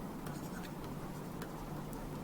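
Chalk or marker strokes on a board during an accountancy lecture, faint quick scratches and taps in a short irregular run over a quiet room hum.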